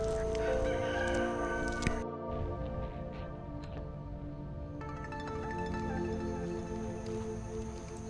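Roosters crow and chickens cluck while running loose in a village near Udupi, Karnataka, several birds calling over steady rural background noise, one near crow loud and others farther off.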